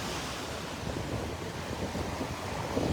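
Surf rolls steadily off the Gulf beach at Delnor-Wiggins, a continuous broad wash of breaking waves mixed with wind buffeting the microphone, with no voices.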